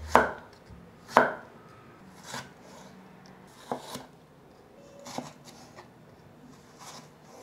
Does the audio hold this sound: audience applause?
no